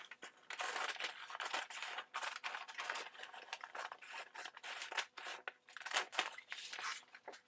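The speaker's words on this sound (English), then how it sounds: "what I'm going to do is take a pair of scissors" Repeated crisp snipping and crunching of paper being cut with scissors on a sheet music cabinet during restoration, close up, in irregular bursts with short pauses, no talking.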